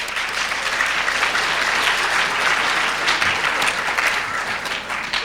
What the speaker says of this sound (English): Can we get another round of applause for him